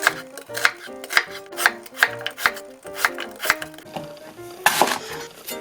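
A knife chops an apple on a cutting board for a broth bag, about a dozen close, crisp, evenly spaced cuts followed by a brief scrape, with no talk.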